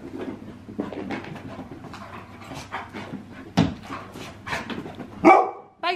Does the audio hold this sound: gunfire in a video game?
no